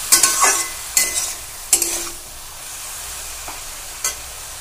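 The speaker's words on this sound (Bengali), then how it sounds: "বেগুনটাও শাকের সাথে ভালো করে মিশিয়ে নিতে হবে।" Bottle gourd greens and eggplant stir-fried in a pan, with a few sharp scraping stirs of a spatula over a soft background sizzle, the later strokes fainter and spaced apart.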